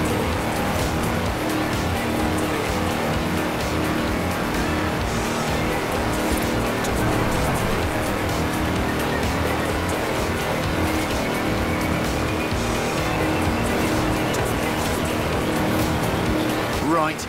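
A tractor on 4-inch mud tyres in the racing game Forza Horizon 4 drives flat out with a steady, loud engine drone throughout, while someone talks over it.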